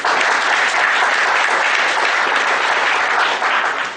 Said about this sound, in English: Let us thank the speaker with a round of applause.